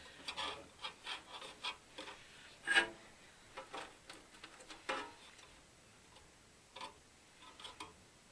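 Scraping inside an Ebac dehumidifier fan gives a run of quiet, scattered rasping ticks and rubs, irregular and close, with one slightly louder scrape near the middle and no talk.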